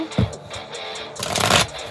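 Tarot cards being shuffled by hand, a riffling patter that builds into a louder burst of rapid flicking near the end, close by.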